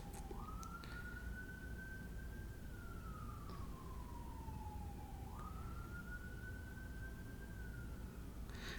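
An ambulance, fire truck or police car passes with its siren wailing, rising and falling through about two slow sweeps over a steady background hum, with no one talking.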